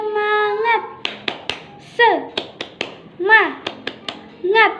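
Children in a classroom perform a rhythmic clap chant, sharp hand claps landing in short rhythmic groups between sung, chanted voices, close and lively with pauses between phrases.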